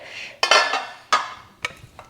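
Casserole dishes and a small Pyrex dish are handled while a kitchen is decluttered, giving three or four distinct clinking knocks of glass and ceramic against each other and hard surfaces, close and fairly loud.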